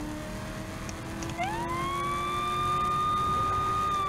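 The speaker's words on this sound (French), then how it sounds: "Ah, c'est cool ça avec la sirène." A police siren in the video game Saints Row The Third rises and then holds a steady wail over a constant engine rumble from the game.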